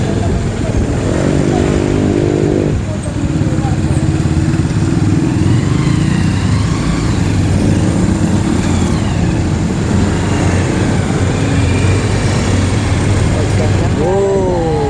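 An old motorcycle engine runs steadily and loudly up close, a constant buzzing drone with slight shifts in pitch, while voices speak over it at times.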